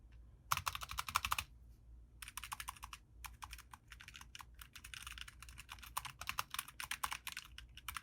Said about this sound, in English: Just the keyboard, the spacebar.